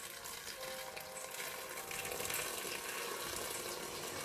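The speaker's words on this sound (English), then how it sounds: "And I'm going to add some hot water" Hot water poured steadily into a pot for Guyanese pepper pot, a continuous splashing gush lasting the whole moment, close and fairly quiet with no talking.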